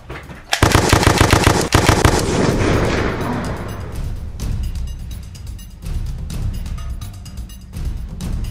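Rapid automatic gunfire in a zombie video game, a loud close burst of fast repeated shots that tapers off into scattered, quieter shots and rumbling.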